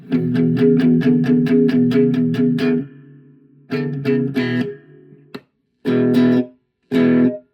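An amplified, slightly distorted cigar box guitar with a Lace pickup strums rapid repeated chords, pauses, then plays a few more short bursts and single notes, loud and close.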